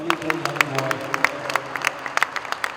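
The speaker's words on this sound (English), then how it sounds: "Please clap your hands together." An audience claps along with sharp, scattered handclaps in a loose rhythm at a celebrity event, while a person talks over them.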